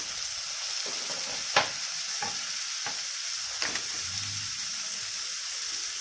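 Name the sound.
tomato and onion being sautéed in a pan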